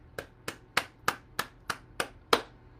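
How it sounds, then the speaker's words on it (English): Eight sharp hand claps and cupping strikes on the body, evenly spaced about a third of a second apart, close and crisp with no talk, during a morning bouncing and body-tapping routine. "just hold that last clap or cupping and feel where the vibration goes"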